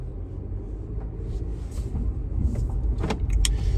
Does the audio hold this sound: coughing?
no